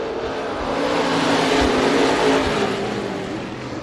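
Dirt track race cars circling Bakersfield Speedway, a steady loud roar of several engines blending together with no break, swelling slightly as the pack runs down the back straightaway.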